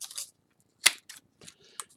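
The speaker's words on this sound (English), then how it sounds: "Just use your scissors." Scissors trimming overhanging cardboard edges on a craft build, giving a few short, crisp snips close by, one sharper than the rest, separated by brief quiet gaps.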